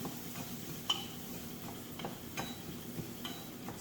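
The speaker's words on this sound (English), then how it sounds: "Stirring." A spoon stirs Tunisian-spiced meatballs in a pan, giving soft scraping and a few light clicks over a faint steady sizzle, close and fairly quiet.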